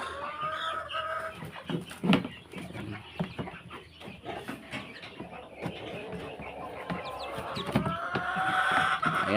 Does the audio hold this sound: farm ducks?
yes